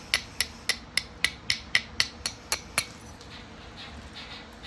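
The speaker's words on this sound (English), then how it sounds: "Then I just barely hit this edge again just to make that bevel a little bit stronger." A percussor strikes the edge of a flat stone eleven times in a quick, even series of sharp clicks, then stops, leaving quiet room tone.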